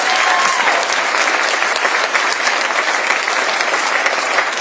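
A university address audience breaks into sustained, dense applause from a large crowd, steady and loud throughout with no voices standing out.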